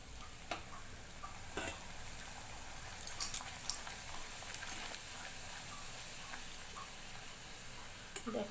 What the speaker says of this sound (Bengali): এখন বাদ বাকি লুচিগুলো ভেজে নেব।